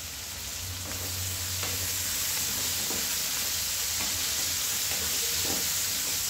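Pointed gourd (parwal) frying in a kadai gives a steady, close sizzle, with scraping taps from a spoon stirring the pieces at intervals.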